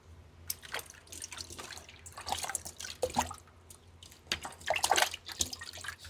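Chopped taro root being rinsed in water several times, heard as soft, close splashes, drips and trickles that come and go in irregular bursts, fairly quiet with no talking.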